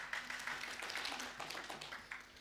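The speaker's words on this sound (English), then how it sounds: "so be quick with your clapping" Audience clapping at a climate resilience panel event, a steady wash of many hands heard at moderate distance, fairly faint and continuous for a couple of seconds with no talk over it.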